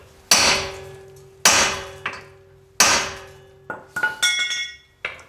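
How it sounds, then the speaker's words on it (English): A hammer is struck onto another hammer set on a stuck brake rotor screw, giving several loud, close metallic clangs with ringing decay, then a cluster of quicker lighter taps. "You take the other hammer and you hit it."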